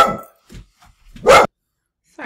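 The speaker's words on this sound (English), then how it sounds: "so I had to stop so my dog could bark at the mailman" Indoors, a dog gives a short burst of barking at the mailman: a few faint yips, then one loud, close bark, with brief quiet gaps between.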